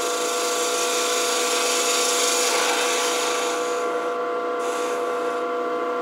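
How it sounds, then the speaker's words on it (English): A gouge on a wood lathe rounds over the outside of a small turned coffee scoop, making a continuous close scraping hiss with a humming motor tone, and the cut eases off near the end. "now I want to go ahead and round over the outside here just a little bit."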